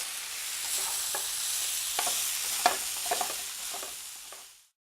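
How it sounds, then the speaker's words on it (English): Brown rice stir-fries in a hot pan over high heat, giving a steady close sizzle broken by a few sharp scraping clicks as it is stirred, then cutting off abruptly near the end. "now we'll add the brown rice to the pan. We want to brown the rice a bit, even though it's called brown already, so we turn up the heat and stir"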